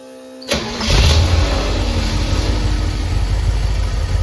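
A car engine fitted with a rebuilt carburetor cranks, catches and fires up, then settles into a steady, loud, rumbling idle close by with no talking.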